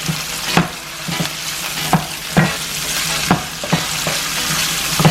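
Canned ackee sautéing with seasoning in a pan for ackee and saltfish: a steady close sizzle broken by a spoon scraping and knocking against the pan every half second or so, with no voices.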